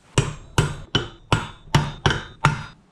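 Seven evenly spaced, sharp metallic hammer taps drive a key into a mower engine flywheel, each ringing briefly, close up with no speech.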